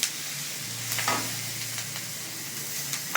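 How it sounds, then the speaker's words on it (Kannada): Capsicum stirred into frying onions in a pan gives a steady close sizzle, with a few soft scraping stirs breaking through the hiss. "ಕ್ಯಾಪ್ಸಿಕಮ್ ಹಾಕಿ ಅದು ಹಸಿ ವಾಸನೆ ಹೋಗೋವರೆಗೂ ಹುರ್ಕೋಬೇಕು."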